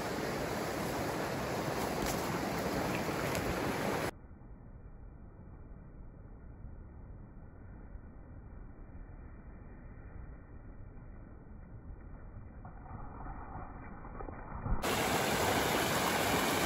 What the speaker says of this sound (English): Listen to the sound of the water, very peaceful on a snowy day.